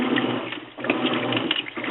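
A washing machine churns on its heavy cycle with a steady mechanical drone and rhythmic rumbling, loud and close, with a short dip partway through.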